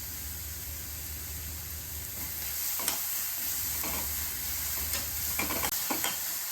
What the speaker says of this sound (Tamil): வெங்காயம் பூண்டு மட்டும் நல்லா வதக்கினா போதும். காய்கறி அவ்வளோ வதக்கணும்னு இல்லை.